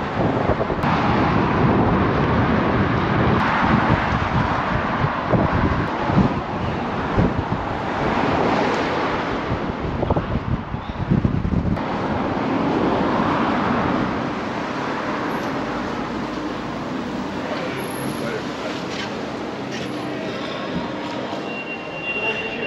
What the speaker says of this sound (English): it's a little bit on the windy side here.